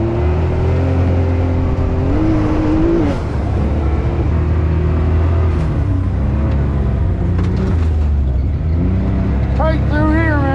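A Can-Am Maverick X3 off-road side-by-side drives steadily in high gear, its engine droning loud and close with shifting pitch, wind and terrain rumble, and a short rising rev near the end.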